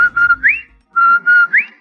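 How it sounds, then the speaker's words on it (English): A two-note whistle from a 1945 radio broadcast, the Rinso White jingle: sustained tones each ending in a rising upward slide, played twice with a short pause between, clear and alone. "That whistle. That's the Rinso White whistle."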